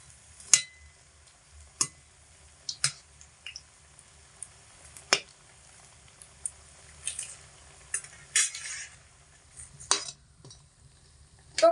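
Radish pakoras frying gently in oil over low heat, a faint steady sizzle broken by scattered light clicks and scrapes from turning them.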